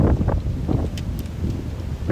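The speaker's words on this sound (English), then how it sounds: "It's windy as fuck, there's froth on the beaches." Strong coastal wind on the Isle of Wight buffets the microphone in heavy low gusts and rumbles, with a few brief hissing bursts over the roar.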